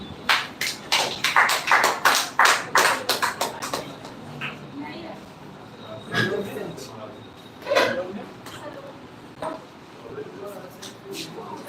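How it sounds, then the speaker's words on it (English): Claps from a small classroom audience welcoming a student speaker at a school speech contest on poverty in India, a dense burst of several seconds that thins into scattered taps and faint room noise. "So please clapping for Miss Puspanjali."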